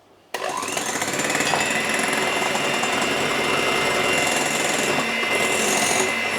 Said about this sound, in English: I will be turning my electric whisks on once again, and I will be keeping it on a medium setting